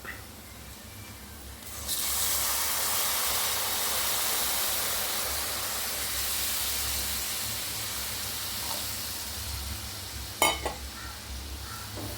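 Water poured into hot fried masala for a fish curry bursts into a sudden loud hiss of sizzling and steam after a quiet start, holding steady, then easing with a sharp clink near the end, no talk.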